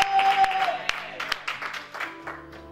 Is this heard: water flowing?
no